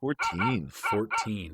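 A voices a harmonic, yelping imitation of a dog barking, several loud, close bursts in quick succession during a podcast.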